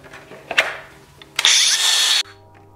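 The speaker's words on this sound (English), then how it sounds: "I then used the cutoff wheel on my grinder to cut the EMT to length" An angle grinder with a cutoff wheel bites into EMT conduit in a short, loud, high-pitched whining cut of under a second, preceded by some handling clatter and followed by the motor winding down.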